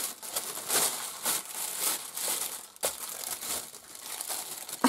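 Paper wrapping around a gift package crinkles and rustles up close as it is unwrapped, in continuous handling bursts with one sharp tear-like crunch midway.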